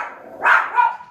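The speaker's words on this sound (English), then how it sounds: "Let's wait a second for the chihuahua to stop barking." A chihuahua gives two quick, high-pitched yapping barks, close and fairly loud, with a short gap between them.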